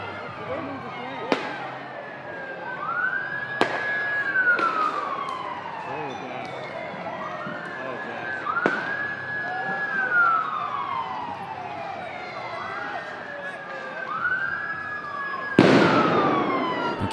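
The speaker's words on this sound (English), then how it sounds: "every zing you hear is a shot" Repeated zinging whistles arc through a street protest, sweeping up then down in pitch about every two to three seconds, each followed by sharp cracks and bangs, with crowd noise underneath and a loud blast near the end.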